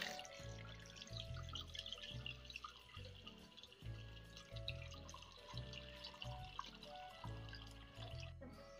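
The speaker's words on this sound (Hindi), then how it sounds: "पानी डालते हैं।" Water is poured into a pot or container in a home kitchen, where chicken is being set to thaw, with soft splashing and dripping broken up by a repeating low knocking pulse.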